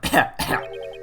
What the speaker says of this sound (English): Cough, wheeze, sputter, cough.